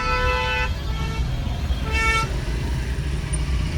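Busy road traffic with engines rumbling low and two long car horn blasts, the second shorter, sounding close over the steady din.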